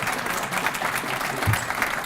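An audience at a city's State of the City address applauds steadily, a dense continuous patter of many hands that stays even and fills the room throughout, with no voices above it.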